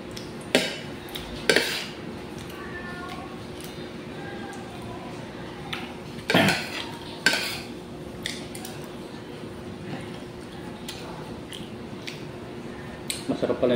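Metal cutlery clinks against a plate during a meal of oyster adobo (adobong talaba): scattered sharp taps and scrapes, a few louder clatters standing out from a quiet background.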